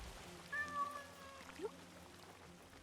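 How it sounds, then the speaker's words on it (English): A cat in a video game gives one long meow followed by a short chirp, fairly close over quiet game ambience. "I hear you, kitty."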